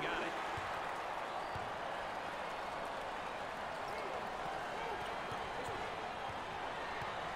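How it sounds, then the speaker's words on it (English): A crowd in a basketball arena at a Texas versus Oklahoma State college game cheers in a constant roaring wash, with faint bounces and thuds under it and a commentator talking over the top. "Listen to the crowd."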